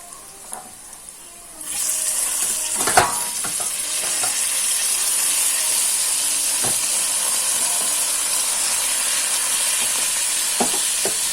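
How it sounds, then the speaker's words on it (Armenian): Asparagus fries with onions in a pan, erupting into a loud, close, continuous sizzle after a quiet opening, with a few sharp stirring knocks. "դրա մեջ տապակում ենք ծնեբեկը"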